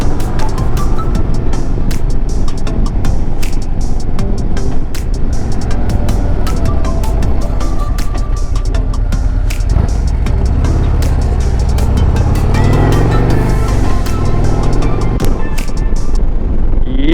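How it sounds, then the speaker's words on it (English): A 2024 Harley Davidson Road Glide CVO ST motorcycle is ridden on the road, a loud steady engine drone mixed with rushing wind noise, unbroken throughout with no talk. "I am out on the Harley Davidson 2024 Road Glide CVO ST this Saturday"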